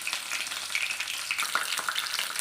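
Garlic for chutney fries in hot oil with curry leaves, giving a continuous bright, crackling sizzle with small pops, close and steady throughout.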